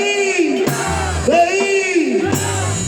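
A crowd at a musicians' day award ceremony cheering and shouting loudly, with drawn-out yells and whoops rising and falling, and some voices mixed in.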